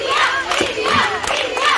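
Brief bursts of crowd cheering and shouting at an International Women's Day event in Agra, loud and close, rising and falling in three quick waves.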